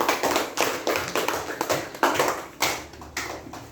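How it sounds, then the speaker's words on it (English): A small class of schoolchildren claps together in quick, uneven bursts of sharp hand slaps, close and fairly loud, with no talking over it. "Give them a clap."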